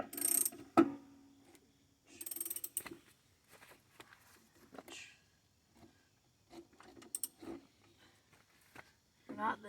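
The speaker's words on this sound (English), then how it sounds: "Pull till you hear it click if you're using a wrench." A ratchet wrench clicks while loosening the blade bolt on a Toro mower, with a wooden block holding the blade: sharp, irregular clicks and rattles in short bursts separated by quiet gaps.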